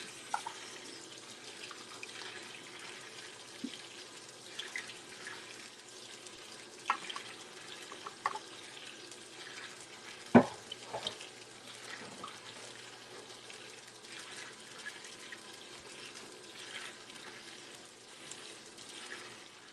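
Running water from a tap while laundry is rinsed, a continuous soft splashing flow at moderate distance, with occasional small knocks and sloshes rising above it.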